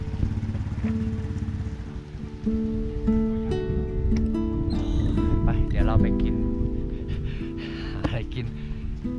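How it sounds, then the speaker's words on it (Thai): Rain pours onto a shelter roof on a mountain in Karen State, Myanmar, a steady dense patter throughout with clatter and indistinct voices over it. "ฝนตกแล้วทุกคน ไม่มีที่หลบเลย"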